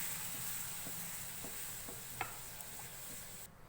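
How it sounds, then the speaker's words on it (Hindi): A spoon stirs flour, butter and milk in a pan for white sauce, making soft, faint scraping taps at a steady, slow rhythm over a low background hiss, with no talking. "चमचा चलाते रहेंगे और मिक्स करते जाएंगे।"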